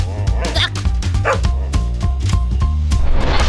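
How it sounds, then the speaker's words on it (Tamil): A dog barks and yips repeatedly over a movie soundtrack with music, while people talk. "கன்றாவி நாய்."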